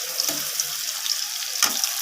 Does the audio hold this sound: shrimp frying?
yes